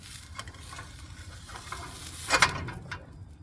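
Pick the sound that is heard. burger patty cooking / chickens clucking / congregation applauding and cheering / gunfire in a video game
burger patty cooking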